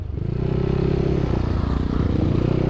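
A motorcycle fitted with a 2000 rpm clutch spring and 1500 rpm CVT springs roars close and loud, its engine note holding steady with a rough, pulsing throb throughout, no voices.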